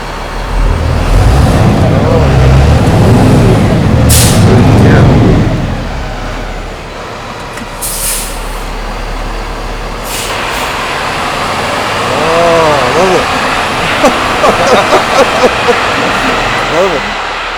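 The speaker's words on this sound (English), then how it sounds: "Just listen to this engine." A new 2022 Isuzu F-Series truck engine runs loudly nearby, rumbling and revving while traffic passes, with a person talking over part of it.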